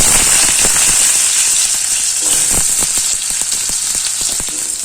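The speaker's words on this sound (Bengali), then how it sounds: "এবার আগে থেকে কেটে রাখা আলুটা দিয়ে দিচ্ছি" Chopped potatoes hit hot oil seasoned with black cumin seeds and sizzle loudly, a dense crackling fry that holds steady and fades slightly toward the end, close up, with no talking.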